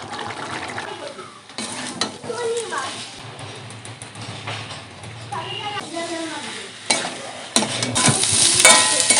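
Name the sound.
young jackfruit pieces frying and being stirred in pan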